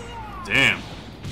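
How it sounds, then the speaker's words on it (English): Galak Gun special move blast from the Dragon Ball Fusions video game, a short sharp energy burst with a bright ringing tone that swells and fades in under a second amid quiet game sounds. "Special move. Galak Gun! Blow everybody away!"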